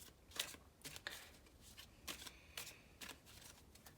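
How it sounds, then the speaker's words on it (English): A deck of playing cards is shuffled close up during a card trick, several quick crisp riffling bursts separated by short pauses, fairly quiet with no talk. "I'll just give it another shuffle"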